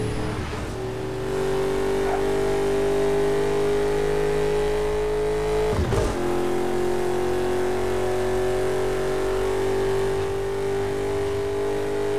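A car engine revs steadily in the Burnout Paradise Remastered racing game, a loud continuous mid-pitched drone that dips briefly near the middle before climbing again, with no talking over it.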